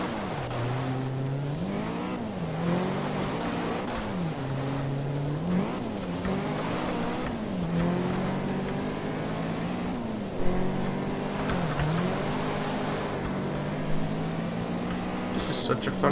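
Revving engine of a 1967 Mustang in the Juiced racing game, its pitch sweeping up and down in repeated gear-change cycles, loud and continuous throughout.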